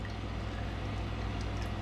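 Cherry candy dip pours steadily into a cup, giving a soft continuous liquid trickle over a low constant hum, with no talking.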